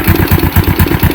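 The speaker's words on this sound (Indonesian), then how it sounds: "Itu langsung hidup ya, langsung langsam." A kick-started motorcycle with a carburetor that catches on one gentle kick and settles into a steady idle, a loud, close, even chugging putter with regular firing pulses.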